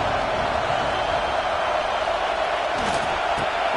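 A steady, dense roar from a college football stadium crowd, Texas against Alabama, filling the whole stretch evenly, with a little faint cheering on top.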